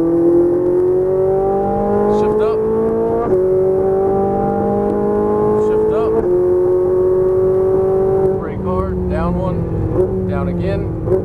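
A Ferrari 458 Italia is driven hard on a race track in Las Vegas. Its loud engine wail climbs steadily through three quick upshifts, then settles as a voice talks over it near the end.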